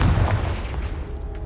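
The Confringo spell sets off an explosion in the Hogwarts Legacy video game, a single loud, booming blast that rumbles low and fades out over about a second.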